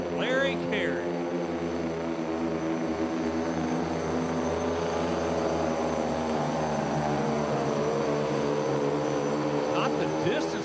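A tractor-pulling truck engine roars steadily at the Tomah Truck and Tractor Pull, loud and sustained from start to finish, with an announcer's voice faintly beneath the din.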